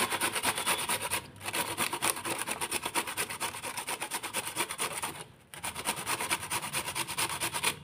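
Cauliflower is rubbed on a hand grater in a home kitchen, making quick, rhythmic rasping strokes that run in steady bursts, broken by two short pauses.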